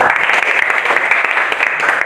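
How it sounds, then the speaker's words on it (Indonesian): Applause from an audience for a student presenter at a teacher-training performance exam, a short dense burst of clapping that stays steady and fairly loud throughout. "Tepuk tangan."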